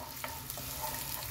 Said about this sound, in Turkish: Birazcık kavuruyorum.